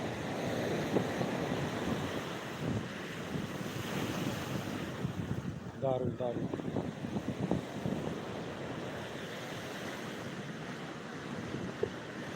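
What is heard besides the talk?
big sea waves breaking on Digha beach at night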